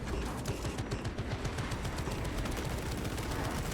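Rapid, continuous gunfire from a Techmarine's automated turret in the video game Space Marine, a dense unbroken stream of shots at high volume with no pauses or talk.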